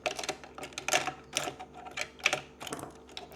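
Small plastic and metal clicks and taps come from a sewing machine as the presser foot is dropped and swapped for a zipper foot, in quick irregular bursts close by and fairly quiet.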